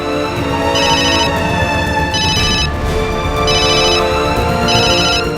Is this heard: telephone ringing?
yes